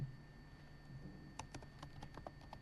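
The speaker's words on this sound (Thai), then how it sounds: "เดี๋ยวผมพิมพ์ให้ดูเลยนะครับ" Keys tapped on a computer keyboard in a quiet room: a short burst of light, rapid clicks that begins partway through, soft and close, with no one talking.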